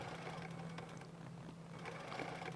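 A sewing machine stitching a quilt block, a low steady motor hum with faint rapid needle ticking, quiet and continuous, no voices.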